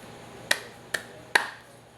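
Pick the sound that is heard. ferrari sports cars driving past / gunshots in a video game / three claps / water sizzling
three claps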